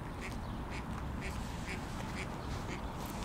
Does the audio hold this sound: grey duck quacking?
yes